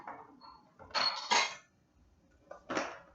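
A food processor gets shifted across a kitchen counter, giving a few close clunks and hard clattering knocks in separate bursts with quiet gaps between them.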